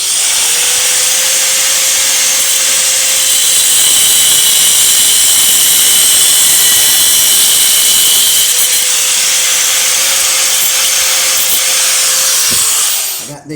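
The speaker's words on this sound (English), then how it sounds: "I'm gonna take one of these bolts and I'm gonna cut it off" A loud, steady power tool whines continuously as it cuts through a metal bolt, its pitch dipping briefly twice before cutting off at the end.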